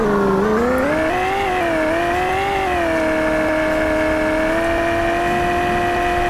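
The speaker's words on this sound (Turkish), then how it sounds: "Arabanın inanılmaz sesi var ya." A Formula 1 car in the Roblox video game revs its engine, the pitch climbing, dipping and then settling into a sustained high drone, loud and close with no talking over it.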